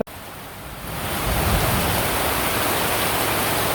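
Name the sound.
heavy rain with wind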